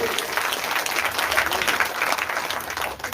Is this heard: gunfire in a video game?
no